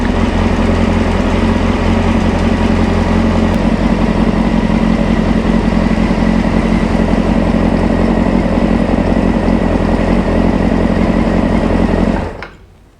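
A Honda CBR600 project motorcycle engine runs steadily at a loud, close idle with a constant throb, then cuts off abruptly near the end.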